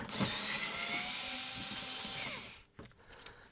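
A power screwdriver whirs close by for about two and a half seconds while removing screws from the back of a 1960 Philips 17TG100U television, then stops, followed by a couple of faint clicks.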